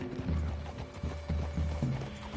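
Horse hooves in Red Dead Redemption 2 clop in an uneven walking rhythm over a low, steady game background.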